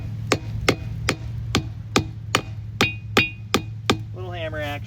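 Nine or ten sharp metallic strikes in a steady rhythm as a small hammer hits a front-wheel-drive van wheel on a rock-crawling trail, with a low engine hum underneath and a brief voice at the end.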